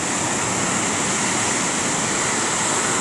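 Ocean surf breaking at St Lucia during a boat fishing derby, a steady broad roar of rushing water and foam that stays loud and continuous throughout, with no voices.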